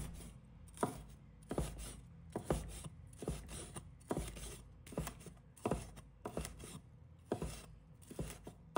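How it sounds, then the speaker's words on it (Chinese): Green and red chili peppers chopped into small pieces on a cutting board for a home-style chicken dish, a steady series of sharp knife strikes about one or two per second, close and clear with no talking. "把它切成小块。"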